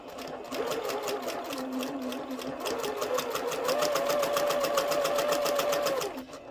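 A sewing machine stitches quilt fabric for a modern three-yard quilt, running steadily at a fast even hum for several seconds and rising slightly in speed before stopping.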